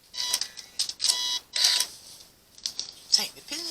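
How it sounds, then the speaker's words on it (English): A sewing machine stitches quilt binding straight across in several short, close bursts with brief gaps, while someone talks quietly between them. "I am literally going to sew straight across to it"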